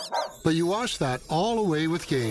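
A dog barks and yips with whimpering tones in a radio advert, short repeated bursts mixed in with a person talking.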